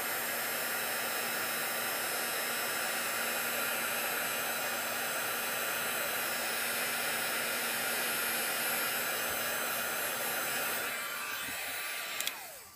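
A heat tool warms an embossed image on card, giving a steady, loud blowing whoosh like a hair dryer that runs unbroken and cuts off near the end.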